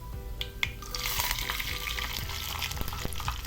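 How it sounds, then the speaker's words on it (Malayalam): Mustard seeds splutter in hot oil for a cauliflower dish, a dense close sizzle broken by sharp irregular pops and crackles, with no voices. "അത് ചൂടായി വന്നപ്പം കടുക് കൂടി ചേർത്ത് പൊട്ടിക്കുകയാണ്."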